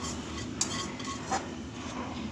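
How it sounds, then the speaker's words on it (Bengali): Plates and dishes being washed at a home kitchen sink, with light clinks and knocks of crockery over a constant low background wash of noise. "আমি সেই ফাঁকে থালা প্লেটগুলো ধুয়ে নিই"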